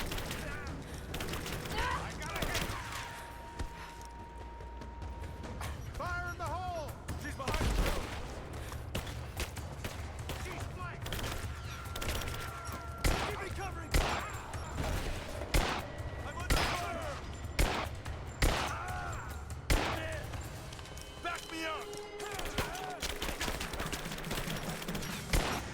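Repeated booming blasts and bursts of gunfire in the video game Rise of the Tomb Raider, sharp impacts scattered through the clip, with a person talking over parts of it.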